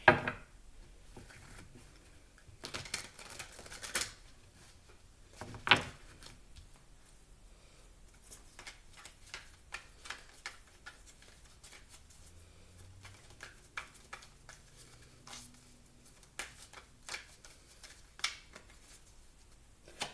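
Tarot cards being shuffled by hand in a reading, soft intermittent riffles, slaps and taps at close range with quiet gaps between bursts, no talk.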